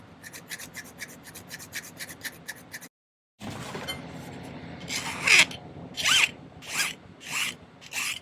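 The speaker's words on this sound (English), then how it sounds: "let's see if we can file off that excess solder" Hand file rasping excess solder off the inside of a ring, quick rhythmic strokes first, then a short silence, then slower, longer scraping strokes, close and clear.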